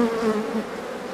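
A dense, close humming drone of many honeybees buzzing together inside a hive, steady and continuous for a brief moment.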